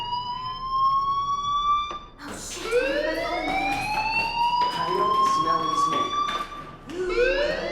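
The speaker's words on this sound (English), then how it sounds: "Hey, do you hear that fire alarm?" A school fire alarm in the video game Life is Strange wails in rising, sweeping tones, loud and continuous, with brief pauses between cycles, while a character speaks over it.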